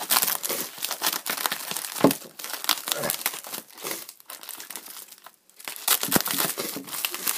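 Tape being torn and peeled off a toy figure's package during unboxing, heard as continuous loud crinkling and ripping with short pauses.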